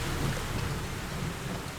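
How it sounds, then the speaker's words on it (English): Heavy rain pours down in a steady dense hiss, with deep rumbling thunder rolling beneath it, continuous and loud throughout. "As heavy rain began to fall"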